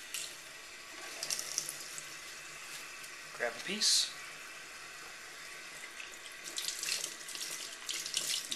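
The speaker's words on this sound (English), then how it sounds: "you can just do it under some running faucet water" Water runs steadily from a tap into a sink as pieces of food are rinsed, with a brief spoken phrase and some handling noises partway through.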